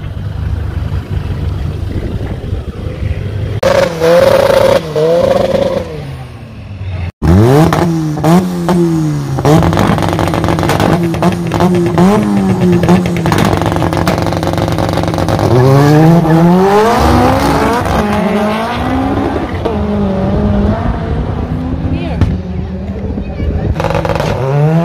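Subaru and a BMW 330D racing side by side at a raceway meet, engines roaring and revving hard with rising and falling pitch sweeps, loud and close, with voices talking over the engine noise.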